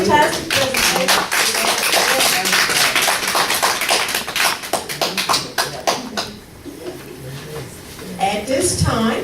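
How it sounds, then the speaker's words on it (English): A big round of applause from a seated audience at a senior summer school event, loud dense clapping sustained for most of the clip, thinning briefly before picking up again. "please join me in a big round of applause"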